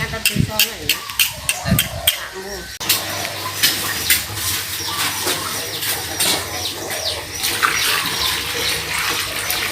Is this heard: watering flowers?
yes